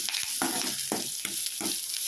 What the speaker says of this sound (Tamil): இப்போ சின்ன வெங்காயம் சேர்த்து நல்லா தாளித்து விட்டுக்கலாம்.